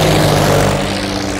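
A propeller aircraft engine on a private flight in a comedy movie scene drones loudly and steadily with a tonal hum, easing slightly toward the end.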